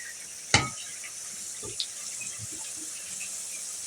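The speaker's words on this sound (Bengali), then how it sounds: "এখন গরম পানিটা দিয়ে দিব।" Hot water poured into a pot of braised beef and potato curry, a steady hissing pour that opens with a sharp clank, then settles into a continuous wash with faint knocks, no voices.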